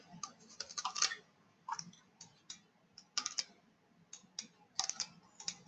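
Quiet computer mouse clicks while working in midas Civil structural software, coming in small irregular clusters of sharp ticks over a few seconds.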